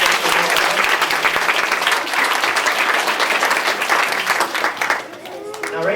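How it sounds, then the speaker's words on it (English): A loud, sustained round of applause from a magic show audience, dense clapping throughout that tapers slightly near the end as a voice begins. "Let's give Ranger a big round of applause."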